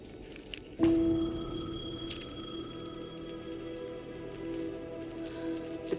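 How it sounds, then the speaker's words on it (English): A payphone rings in Alan Wake 2, a sustained electronic tone with a strong low pitch and bright overtones that starts abruptly and persists steadily over a quiet, dark ambience. "The payphone was ringing."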